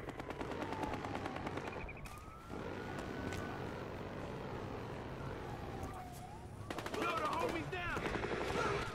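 Rapid automatic gunfire mows down enemies in Battlefield Hardline, with bursts and sustained fire continuing through the scene, siren-like wails rising in the mix, and heavier rattling volleys near the end.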